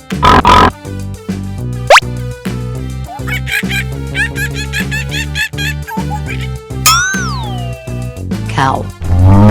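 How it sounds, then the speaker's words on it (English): A pig grunts in a brief burst at the opening, set against cheerful children's music that carries on with toy-like sound effects throughout. "Pig."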